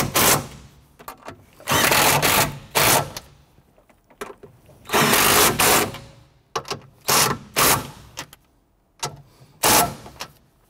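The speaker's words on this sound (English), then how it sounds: "Let's go ahead and tighten those down." Nuts being tightened onto the rear strut studs of a 1992-1996 Toyota Camry, bursts of loud rapid ratcheting separated by short pauses, close by with no talking.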